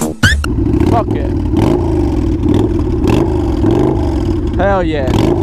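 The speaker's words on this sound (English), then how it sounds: "That's that V-twin sound, baby. Sound like a muscle car." A chrome-laden V-twin motorcycle engine revs hard and steadily with a deep, throaty muscle-car-like rumble, close and loud, while people talk over it.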